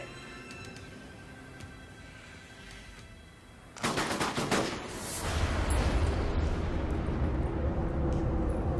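Gunfire bursts in the video game Final Fantasy X-2: a quieter stretch of game sound breaks into a loud, sustained rattle of rapid shots and blasts that continues to the end.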